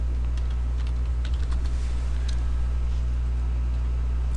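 Computer keystrokes tapping away through a steady, loud low hum of background noise, with light, scattered clicks that thin out toward the end and no speech.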